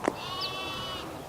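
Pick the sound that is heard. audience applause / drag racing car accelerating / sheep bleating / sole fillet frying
sheep bleating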